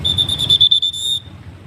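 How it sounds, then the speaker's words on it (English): A traffic police officer's whistle on a city street in Phnom Penh, Cambodia: a shrill, rapidly trilling blast lasting just over a second, loud and close, then cut off to low street rumble. "If you listen carefully, you can hear the police whistle now."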